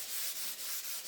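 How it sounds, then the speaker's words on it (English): Painted drawers are gently sanded by hand with 400 grit sandpaper: close, soft rhythmic rasping strokes, about four back-and-forth passes in quick succession with no talking. "So just a gentle sanding and then they'll be ready for its final coat paint"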